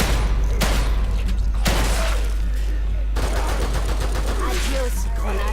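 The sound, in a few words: gunfire in the video game The Evil Within 2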